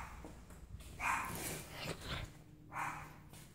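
A neighbors' dog barks at a distance in a few short bursts, heard outdoors where a transformer is being pulled out, with a low steady hum underneath.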